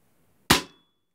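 A single sharp, dry pop of a Weihrauch HW 45 air pistol shot, close and loud, fading quickly into silence.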